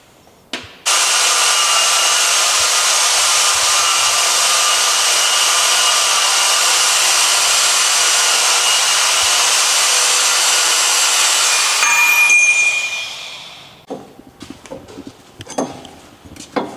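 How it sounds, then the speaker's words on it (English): Steady, loud grinding during the install of a 107mm turbo, a continuous high whine lasting about eleven seconds before winding down, followed by scattered clanks and handling noises. "I gotta really grind on that son of a gun"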